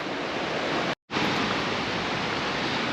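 Waterfalls in southern Laos, a steady roaring rush of falling water, loud and unbroken apart from a brief cut near one second.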